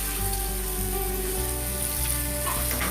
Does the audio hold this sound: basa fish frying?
yes